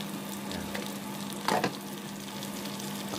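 Noodles and sauce sizzling steadily in a pan on a stove while being stirred, with a brief scrape of stirring in the middle, close and continuous with no talk.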